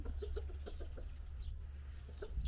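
A rooster clucks in short, repeated bursts over a steady low background hum, fairly close by.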